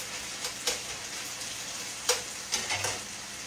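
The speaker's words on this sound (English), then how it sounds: "just let it fry until it gets crispy" Tender chicken gizzards frying in a pan until crispy, a soft steady sizzle with a few sharp pops and spatters, close and fairly quiet.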